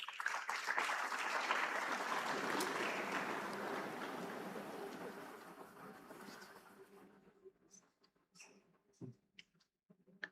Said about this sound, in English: Darren likes to hear the applause when he's walking, you see.